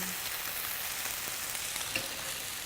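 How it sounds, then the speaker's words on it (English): Satay sauce bubbles and sizzles in a pan on the stove, a steady, fairly quiet crackle with one small clink near the end and no voices. "Now I can see that my sauce is boiling"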